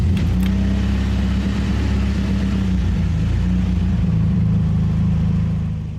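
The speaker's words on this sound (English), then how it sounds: "I get in and start the engine." A Suzuki car engine runs with a loud, steady low rumble and a mid-pitched drone, rising slightly as it revs and pulls away, alone with no talk.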